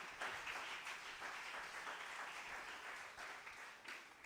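A church congregation applauding during a Sunday morning service, a steady, dense wash of clapping that holds at an even level from start to finish with no voices over it.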